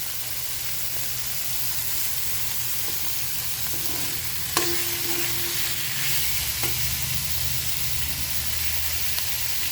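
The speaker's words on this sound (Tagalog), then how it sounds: "Halo-haloin lang natin." Laing with pork frying in a pan, a steady loud sizzle throughout with occasional soft clinks and scrapes of a utensil stirring the mixture.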